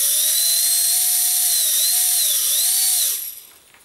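A micro EDF ducted fan motor whines loudly at a high, steady pitch, wavering up and down a few times as it revs, then spins down and fades near the end. No one speaks.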